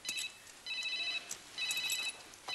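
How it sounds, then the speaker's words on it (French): A telephone bell rings in repeated bursts with short gaps, clear and alone, in a French police drama scene. "Tu crois que j'ai le temps de répondre au téléphone?"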